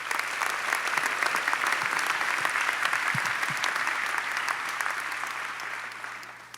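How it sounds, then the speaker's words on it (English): The audience at a Baylor College of Medicine commencement gives a long round of applause, steady and full before easing off toward the end. "Let's have a round of applause for all of them."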